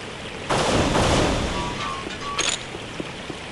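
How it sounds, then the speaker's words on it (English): In the video game Unreal, an energy pulse rifle fires a sudden loud blast that decays into a hissing, crackling tail, with a couple of smaller zaps and tonal bleeps trailing after. "You got needles, I got energy pulse rifle."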